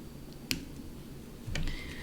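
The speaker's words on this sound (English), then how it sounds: "I'm just going to take my wire cutters and just cut right there" Wire cutters snip thin 1mm jewelry chain for earrings: two sharp, close metallic clicks about a second apart over a quiet, faintly hissing room.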